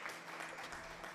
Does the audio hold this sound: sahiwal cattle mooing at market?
no